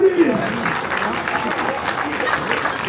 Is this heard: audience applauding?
yes